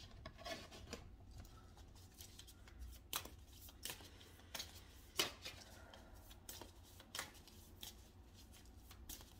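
A deck of tarot cards being shuffled, with soft rustling and a series of crisp riffle snaps and taps coming in irregular bursts, close and fairly quiet, with no talking.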